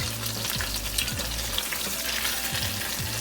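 Oxtail pieces brown in a hot pan for stew, giving a dense, steady sizzle and crackle throughout, with a low rhythmic hum beneath and no one speaking.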